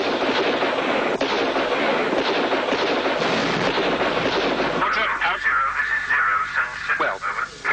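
Soldiers fire rifles at an attacking enemy in a mock battle, the sharp reports blurring into a loud, dense stretch of gunfire that gives way to a thinner, ringing tail.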